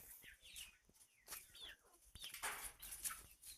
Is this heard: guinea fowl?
yes